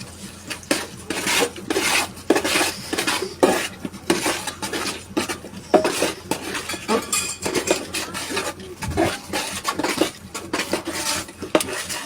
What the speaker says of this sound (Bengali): তো খুরমা খেজুর দিয়ে ভালো করে সুন্দর করে মিক্স করবেন